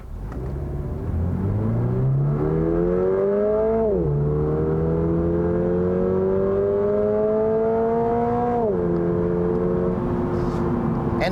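A 2022 Subaru BRZ with a revised six-speed automatic accelerates hard from inside the cabin, its engine note climbing steadily, dropping at two quick upshifts, then rising again in a loud, close, continuous drone.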